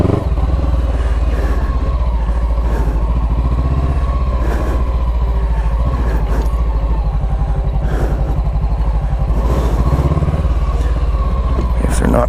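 Honda CB500X motorcycle engine running steadily on a muddy off-road trail strewn with downed trees, a loud continuous low drone with clattering and slight revving throughout.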